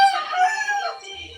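A single rooster crows loudly and close by in one drawn-out call that trails off at the end, with no voices around it.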